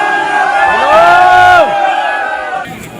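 A dense crowd of pilgrims packed at a police roadblock on the Kedarnath route, with a loud, drawn-out shout or chant rising and falling over close, steady crowd clamor.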